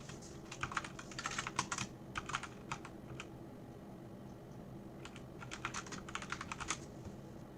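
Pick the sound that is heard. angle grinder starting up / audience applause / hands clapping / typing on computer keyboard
typing on computer keyboard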